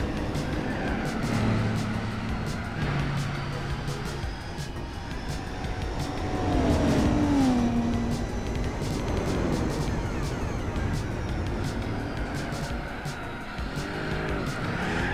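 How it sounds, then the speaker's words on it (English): A Plymouth Superbird racing engine in Gran Turismo 4 revs and shifts under a high, rising transmission whine, with tire squeals and skidding mixed in throughout. "I love the transmission whine in this game."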